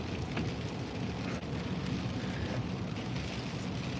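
Steady rain pours down during a nor'easter, a dense, constant broadband hiss of drops on surfaces that stays even and close throughout, with no voices.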